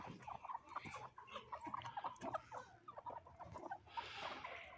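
Hens and roosters on a small poultry farm cluck and call in a busy overlapping chatter, close and moderately loud, with a brief burst of rustling near the end.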